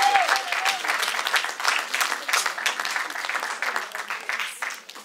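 A church congregation applauding together, a dense sustained burst of clapping from many hands that runs for several seconds and fades slightly toward the end, with a brief voice heard at the very start.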